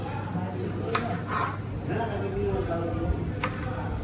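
A kitchen knife chops okra and onion on a board for a curry, with a few soft, irregular cuts under steady background noise and low talk.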